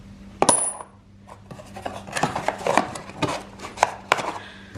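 Solid aluminum wheel spacer hardware and its longer metal bolts are handled, with sharp metallic clinks and taps scattered irregularly across a few seconds, close and fairly quiet.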